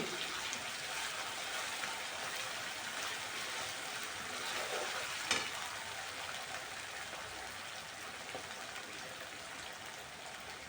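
Two or three garlic cloves dropped into hot oil in a pan while cooking Khandeshi vangyache bharit, giving a steady, close sizzle and crackle like light rain, with a slightly louder spit around the middle.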